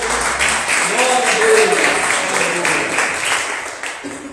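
Church congregation applauding during a worship service, dense sustained clapping that fills the room, with voices mixed in.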